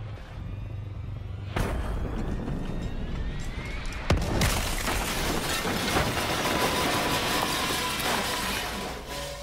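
Plane crash-landing in Black Ops 3: a deep rumble swells to a heavy boom around four seconds, then a sustained loud roar of debris and grinding fills the rest, with no voices.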